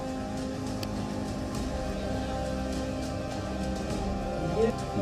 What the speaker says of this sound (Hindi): और अब 2021 में इस मौसम में ऐसी बारिश।